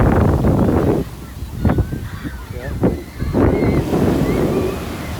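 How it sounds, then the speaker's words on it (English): Ocean waves crashing hard on shore at Huntington Beach, California, in loud rushing surges, with wind buffeting the microphone and someone talking between breakers. "you can hear the power. Well, these aren't coming in soft, these are coming in hard"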